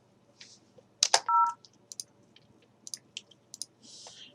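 Keypad tones from the MicroSIP softphone as extension 1000 is dialed, a few short beeps among scattered mouse and key clicks in a quiet room, with no voices.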